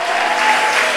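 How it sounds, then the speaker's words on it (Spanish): Church congregation applauding during a Spanish-language sermon, a steady, loud wash of clapping filling the whole moment without a break. "Dale un fuerte aplauso al Señor."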